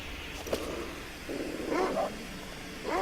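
A wolf-like animal in a wilderness survival video game growls low and rough in several short uneven bursts, moderately close, over a faint ambient hiss.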